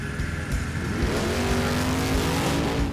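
A 1969 Plymouth Road Runner with its exhaust cutout open roars loudly up close, a deep throbbing V8 rumble that rises in pitch as the engine revs through the short burst.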